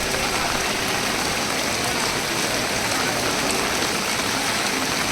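Steady rain pouring down at the Annamalaiyar temple, a constant, dense hiss of drops hitting the ground and surfaces, close and even throughout with no voices.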